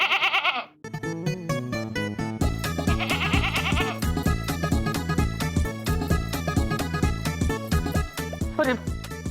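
A goat bleats in a cartoon household scene, its wavering cries standing out loud and close over a busy, rhythmic music bed.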